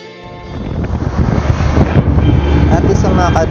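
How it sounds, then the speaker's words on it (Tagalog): Sea breeze gusting past the Plaridel Bridge near the public market in Plaridel, Quezon, a steady rushing wind buffeting the microphone and swelling louder after the first second, with faint voices and activity in the background. "napaka-presko talaga ng simoy ng hangin mula sa dagat"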